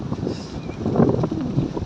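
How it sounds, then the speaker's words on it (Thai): Strong, steady wind buffets the microphone at Bang Saen beach, Thailand, a continuous low roar with gusting swells and no voices. "ลมแรงมากเลย"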